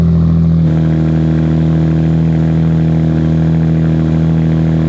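A Holley-fed American big block V8 is revved hard, a brief flare followed by a loud, sustained, steady roar at high engine speed.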